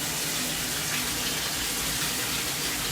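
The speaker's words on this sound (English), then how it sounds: "Fresh, hot, clean water to soak in." Hot water gushes steadily from a tap into a plugged bathtub, a loud continuous splashing rush with no voices over it.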